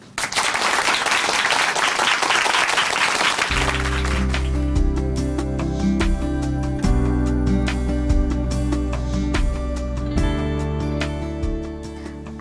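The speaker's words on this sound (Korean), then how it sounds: "박수로 모십니다." A church congregation at Chuncheon Hanmaum Church claps loudly and densely for about three seconds to welcome a speaker at a Christian testimony program, then music with sustained tones starts and carries on to the end.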